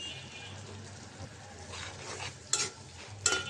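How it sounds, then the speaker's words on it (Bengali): A spice paste of chili, turmeric, coriander powder and salt with tomato being stir-fried for a pangas fish curry, a soft, steady sizzle with scraping stirs and two sharper utensil clinks near the end, heard close up. "মশলাটা কষানো হোক।"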